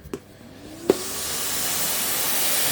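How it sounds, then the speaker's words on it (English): A vacuum cleaner switches on with a couple of clicks, then its motor rises into a loud, steady broadband hiss and whoosh that keeps running alone. "So I will bring my vacuum cleaner. Actually, just need to power it on,"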